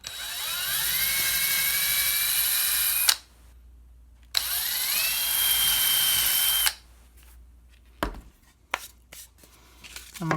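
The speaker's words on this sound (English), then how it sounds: "And pre-drill the holes." A power drill pre-drills holes in wood for a key holder, whining at high pitch in two sustained bursts of about three seconds each, followed by short clicks and handling noises, close and loud.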